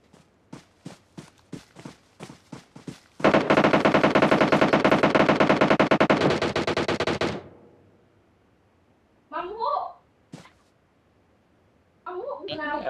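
Gunfire in the mobile battle royale game PUBG Mobile: a run of single spaced shots, then a sustained loud burst of rapid automatic fire lasting several seconds, followed by quiet with brief voices.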